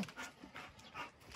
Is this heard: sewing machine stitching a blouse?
no